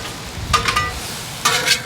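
Thin-sliced ribeye for Philly cheesesteak on a griddle gives two short bursts of scraping and sizzle about a second apart, as a spatula stirs and turns the meat, with quieter hiss in between.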